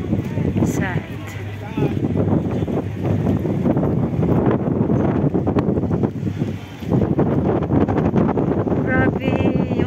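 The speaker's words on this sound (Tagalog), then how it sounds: "Grabe yung hangin, ang lakas." Strong wind buffets the microphone in a loud, continuous roar along a seaside pier walk after heavy rain, with a voice talking underneath at times.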